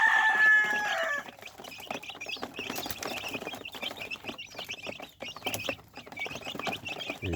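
Young Shamo Parawakan breed chickens, about two weeks old, cluck and chirp continuously in a busy, overlapping chorus, close and moderately loud, with no talking.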